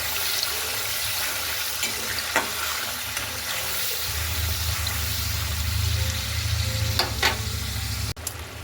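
Spices and peas fry in a pan with a continuous soft sizzle, a low steady hum underneath and a few faint clinks of stirring, with no talking.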